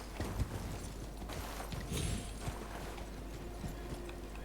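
Hooves of Torrent, the spectral horse in the video game Elden Ring, clip-clop in an irregular patter over a steady bed of game ambience, with no talking.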